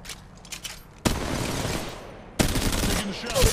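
Apex Legends Mobile gunfire crackles in two loud, dense bursts after a quieter stretch, sounding close and sustained, with faint game sounds between the volleys.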